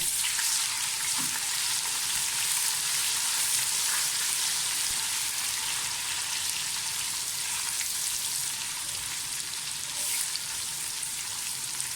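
Steady, dense sizzling of garlic ginger paste frying with onions in hot oil, continuous and close, with faint stirring and no voices.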